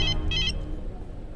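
A mobile phone rings with a short repeated electronic tone in two bursts, loud and close, over a low background hum.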